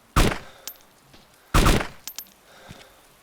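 Video game gunfire cracks out in two sharp, loud bursts about a second and a half apart, each followed by a few fainter pops and clicks, with no talk.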